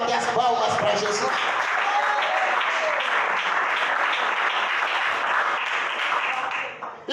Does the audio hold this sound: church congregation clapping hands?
yes